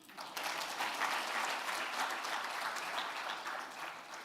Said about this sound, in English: Can we clap again?